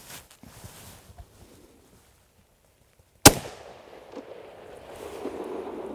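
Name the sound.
Ruger No. 1 rifle shots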